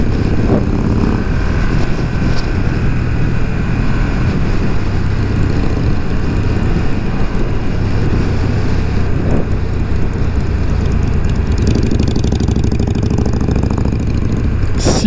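A BMW F900R or Yamaha 600XT motorcycle rides along country roads in northern France, its engine droning loud and steady throughout, with the rider changing down through the gearbox as revs rise and fall near the end.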